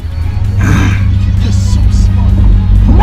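A Lamborghini engine revs in a racing video game, a loud, steady low drone that rises and falls as the car accelerates, while voices talk and react over it.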